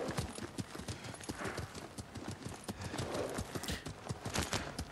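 Horse in the samurai video game Ghost of Tsushima, its hooves clip-clopping in a steady, close rhythm throughout, with a brief neigh breaking in.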